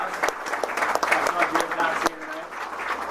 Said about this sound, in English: Blendix, give them a round of applause.